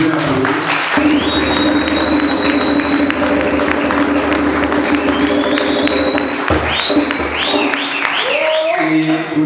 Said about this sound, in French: M. Amissi Maputano, si vous pouvez l'applaudir.